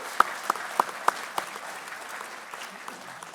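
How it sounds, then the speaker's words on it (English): Scattered applause at a police academy graduation ceremony in Virginia Beach, a few distinct claps at first, then thinner, softer clapping tapering off within a few seconds. "let's give them a round of applause"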